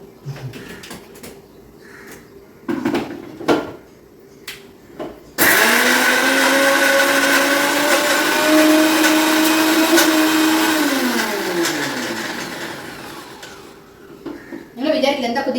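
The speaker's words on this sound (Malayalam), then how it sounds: "മിക്സി ഓൺ ചെയ്യട്ടെ" An electric mixer grinder whirs loudly and steadily for about six seconds, its pitch sliding down as it winds off, with brief talk and clatter before and after.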